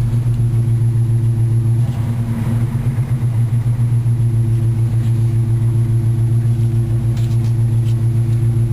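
A 1979 Chevrolet Camaro engine running just after a cold start, a steady close low idle with a constant drone and a brief uneven lope around the two-second mark, no talking.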